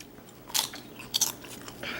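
Paqui Haunted Ghost Pepper tortilla chips crunch under two distinct, close bites, each a sharp crackle followed by softer chewing.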